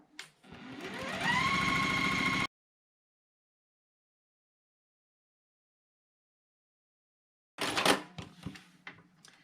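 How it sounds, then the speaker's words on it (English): A sewing machine stitches half square triangles quilt pieces, its motor whirring up to a steady rapid hum for about two seconds before stopping. After a silence come clicks and clatter as the fabric is handled. "we're just going to sew on each side of that line to make some half square triangles"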